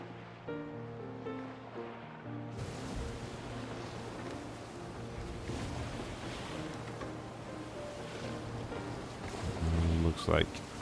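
Ocean waves and wind surrounding a ship sailing on open water in the Anno 1800 video game: a steady wash of surf with tonal hums early on and a louder swell near the end, with a voice briefly present.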